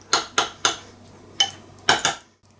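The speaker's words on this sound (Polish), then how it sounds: "Do tego jedna łyżeczka chrzanu mieszamy." A spoon mixing mayonnaise with horseradish in a bowl gives a handful of sharp, bright clinks against the side, irregularly spaced and close up, with no voices.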